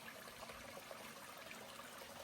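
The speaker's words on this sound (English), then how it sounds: "Look at this little creek coming down." A small creek runs down through a rocky gorge on a mountain trail near a little bridge, giving off a steady, even wash of trickling water with no break or rise across the whole stretch.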